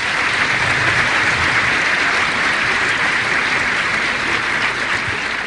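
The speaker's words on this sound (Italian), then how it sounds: "diamo un applauso" Steady, dense applause from a large crowd welcoming visiting clergy, including a cardinal and bishops, at a papal Eucharist celebration in Porto San Giorgio, sustained and loud throughout with no break.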